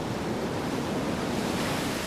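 Typhoon Cobra at sea: a continuous, dense roar of pounding waves and howling wind, loud and unbroken, with no voices.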